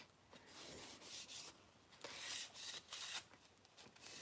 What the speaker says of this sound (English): I'm going to just wipe it down with some kitchen cleaner just to get any grease and yucks that are on this frame and dust off